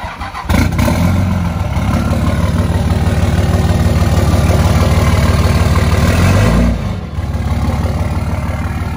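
An engine cranks and catches, then settles into a steady loud idle with the clutch held in, a brief drop in level near the end before it runs on.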